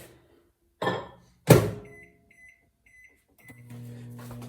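A microwave oven is used: two loud thunks of the door opening and closing, several short beeps from the keypad, then the low steady hum of the oven as it starts running, all nearby with no talking.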